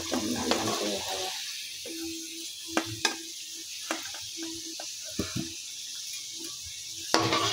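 Potatoes fry in a pan until reddish-brown for a meat curry, giving a soft sizzling hiss with scattered clinks and scrapes of stirring close by and no talking.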